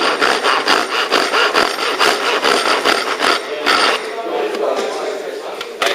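Hand saw cutting through timber, a steady rhythmic rasp of quick back-and-forth strokes, close and fairly loud, heard alone without talk.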